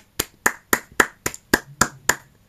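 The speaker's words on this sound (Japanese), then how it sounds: "拍手のパターンあるんかい" Eight evenly spaced hand claps from the video game The Idolmaster Shiny Colors, crisp and close, in a steady slow rhythm with no voices.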